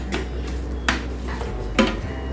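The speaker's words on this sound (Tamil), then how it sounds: "இப்போ நம்ம எடுத்து வச்சுருக்கிற இந்த உருளைக்கிழங்கு அதை சேர்த்துக்கலாம்." Diced potatoes go into a pot of simmering soup base, giving three separate clattering knocks against the metal, close and fairly soft, with a low steady hum beneath and no talking.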